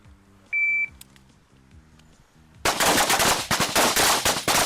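Rapid gunfire erupts on a firearms range, a dense burst of loud, sharp reports in quick succession after a brief electronic beep and quiet lead-in.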